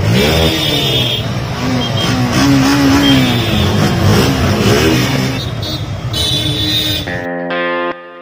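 Suzuki motorcycles, including a Gixxer SF, rev together at a group ride flag-off, a loud, dense, continuous engine roar with rising and falling throttle blips that thins toward the end.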